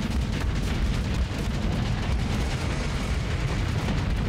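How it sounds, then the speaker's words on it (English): Bombing-run explosions in the space game Starsector: a continuous, heavy rumble of overlapping booms and blasts that stays loud throughout. "Bombing run's coming in."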